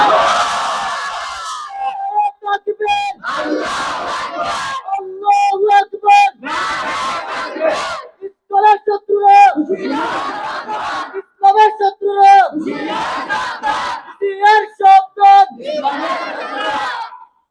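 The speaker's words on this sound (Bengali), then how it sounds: "একটা স্লোগান দেন, নারায়ে তাকবীর।" A large crowd chants the religious slogan Nara-e-Takbir in loud repeated call-and-response bursts at an open-air Islamic sermon gathering, with a leader's voice alternating with the massed roar of many voices.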